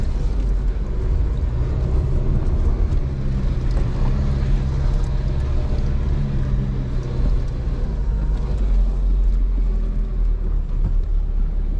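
A long car pulls steadily uphill in 4x2 on a mountain road from Jaipur toward Mukteshwar, its engine a continuous low rumble with road and wind noise throughout, loud and close, with no speech.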